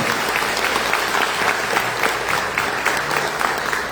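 Church congregation applauding during a service, a sustained roar of many hands clapping, loud and even for the whole stretch, with scattered voices faintly mixed in.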